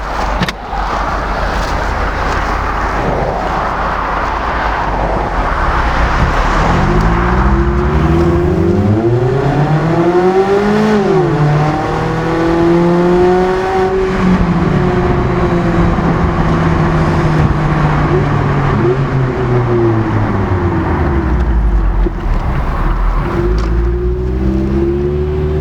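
A roadster with the roof down and a Goodwin Roadstersport exhaust fitted revs and burbles loudly up close, its engine note rising and falling through several swells over a steady rumble.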